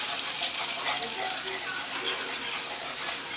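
Hot fat sizzles steadily in a pan while gravy is being made, a continuous bright hiss with small crackling pops that holds at an even, close level from start to finish.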